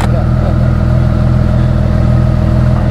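A tuned 850 hp Porsche 911 Turbo sits at a dragstrip with its engine held at steady raised revs against the brake, a constant loud mechanical drone with a low throbbing pulse lasting throughout.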